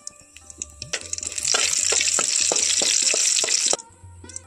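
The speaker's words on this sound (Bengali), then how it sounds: "আর দিয়ে দিচ্ছি এখানে শুকনো লঙ্কা" Dried red chillies hit hot mustard oil in a kadai with a burst of loud, crackling sizzle after a few sharp clicks and pops, holding steady for a couple of seconds before cutting off suddenly.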